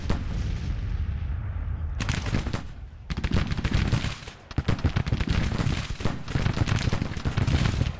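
Rifle volleys crackle from soldiers lying prone in the Grand Tactician strategy game, a dense, ragged string of overlapping gunshots breaking out after a brief lull and rolling on steadily, loud and close.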